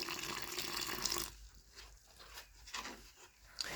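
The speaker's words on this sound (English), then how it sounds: "And then I'll just pour just a little bit of water in there." Water poured into an epoxy grout mix for a bathroom tile job: a brief splashing, hissing pour lasting just over a second, then it stops, leaving only faint trickles and patter in a quiet room.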